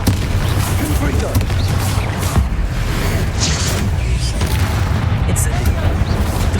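Confringo fire blast spell cast in Hogwarts Legacy, a booming, explosive blast amid continuous combat noise, loud and close with a voice shouting over it.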